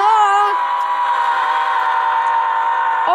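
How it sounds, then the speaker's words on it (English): A Ferromex train rolls past close by with a steady, loud metallic hum and a sustained whistle tone, with brief squeaks and clanks at the start and end. "Oh my god, look at that exclusive train."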